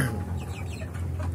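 Free-range village chickens cluck close by in a short burst of a few clipped calls over a low, steady background hum.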